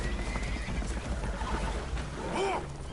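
Spooked horses in Red Dead Redemption 2 whinny aboard a damaged boat that is taking on water, a rising neigh standing out near the end over a dense bed of water and ambient game noise.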